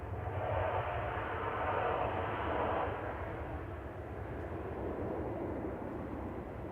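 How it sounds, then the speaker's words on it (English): A jet airliner returning from Palma de Mallorca into Manchester Airport gives a steady, broad engine roar that swells slightly and then holds at a distance. "This is TAWZ coming back from Palma de Mallorca with flight 2669"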